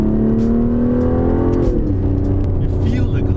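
An Aston Martin V12 revs hard on the Sepang circuit, its loud steady engine note climbing, then dropping as the car shifts and eases off, with a person talking over it.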